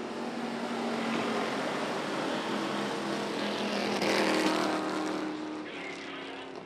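Pure Stock race cars roar around the track after a restart off turn four, a sustained loud blend of many engines with rising and falling pitch as cars sweep past.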